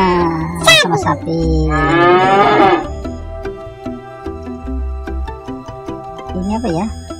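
A toy cow gives a loud, drawn-out electronic moo while animal toys are handled, with a child and an adult chatting around it and other toy animal calls sounding near the end.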